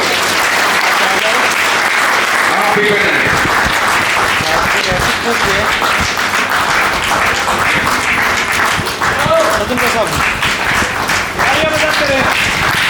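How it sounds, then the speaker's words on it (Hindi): A village crowd in Sasrauli at an honour ceremony for a world cup-winning shooter claps loudly and continuously for over ten seconds, sustained dense applause with a voice briefly speaking over it. "हाँ, तालियां कंपल्सरी है"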